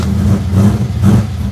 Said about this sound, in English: do you want some more car noise?